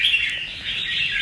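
A caged songbird offered for sale gives close, loud, bright chirping and warbling notes in a continuous chattering stream, with no talking.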